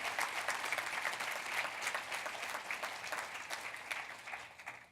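Church congregation applauding during a sermon, a dense, continuous wash of clapping from many hands, steady and fairly distant, with no talk over it, easing slightly at the end.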